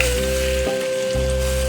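Urad dal, mustard seeds and dried chillies fry in about a spoonful of oil in a pan for a coconut chutney tempering, giving a steady close sizzle with a brief quieter patch in the middle.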